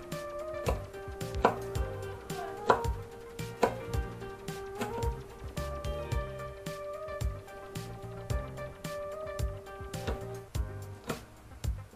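Onion being chopped on a board for fish kinilaw: a steady run of close, crisp knife chops throughout, over faint background music.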